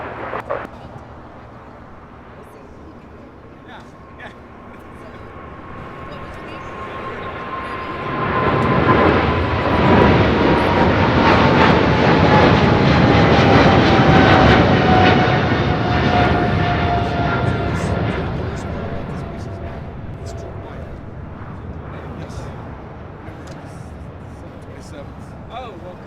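Jet airliner passing at LAX airport, a low engine rumble that swells into a loud roaring pass with a falling whine before fading away, and people can be heard talking over it.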